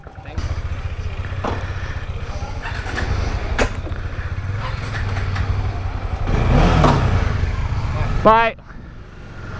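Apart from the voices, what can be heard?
motorcycle revving and stalling in bike market alley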